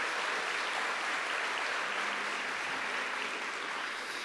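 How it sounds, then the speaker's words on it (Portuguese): A church audience applauds during a Portuguese-language sermon, a steady wash of clapping from many hands that fills the whole stretch at moderate distance, with no voice over it. "Pode aplaudir, pode aplaudir."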